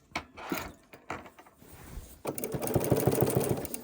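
A sewing machine stitches a curved quilt seam, with a few handling knocks and rustles before a close, fast rhythmic mechanical whirring of the needle runs to the end, with no talk.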